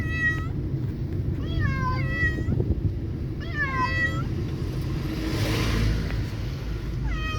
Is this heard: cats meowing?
yes